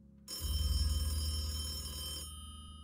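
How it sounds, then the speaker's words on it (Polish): A telephone bell rings in one sustained, loud, rapidly trembling burst of about two seconds, then cuts off. "detektywi otrzymali zaskakujący telefon ze szpitala"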